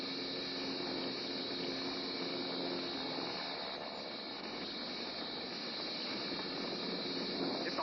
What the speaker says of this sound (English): Pilot Don Likens eases the small plane down for the run